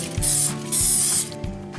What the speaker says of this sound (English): I'm gonna spray it with some cooking spray.